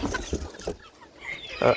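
A white rooster and hens cluck in a farmyard with short, close, scattered calls that come in a few quick bursts with gaps between them, and faint background noise.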